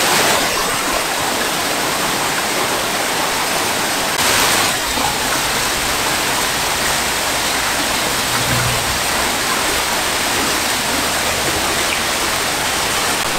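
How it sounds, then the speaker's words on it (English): A loud waterfall roars in a continuous, even rush of broadband water noise, close by and steady throughout with no talking. "obviously the waterfall's pretty loud"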